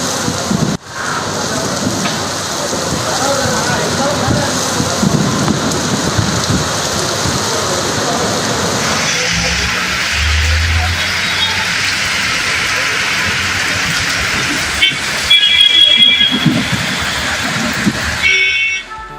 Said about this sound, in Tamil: திடீரென பலத்த காற்றுடன் மழை பெய்தது